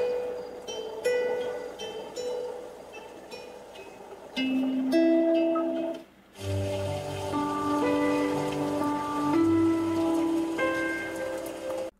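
A Kia Sportage NQ5 multimedia system plays a rainy forest relaxation track: a steady patter of rain mixed with soft, sustained melodic tones that shift in pitch, with a brief dip partway through and no talking.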